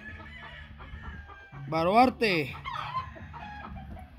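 Roosters, three sent breeding cocks, cluck and then let out one loud, near crow in the middle, with someone speaking briefly over the birds.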